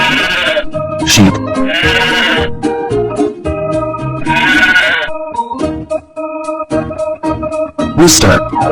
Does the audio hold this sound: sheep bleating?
yes